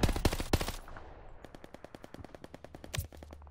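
Heavy gunfire in the Call of Duty Vanguard video game: a few loud close shots open, then a fast steady machine-gun rattle of many rounds, another sharp crack near the end.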